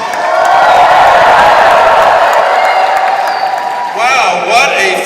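A crowd at a Pierre Poilievre rally in Nisku near Edmonton cheers and applauds loudly and steadily, with whoops and voices rising over the roar toward the end.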